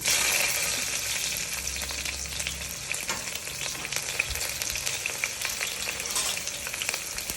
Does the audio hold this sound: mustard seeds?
yes